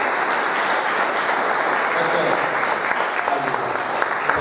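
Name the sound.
congregation applauding in church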